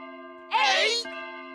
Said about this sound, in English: The clock makes sounds when it chimes the hour.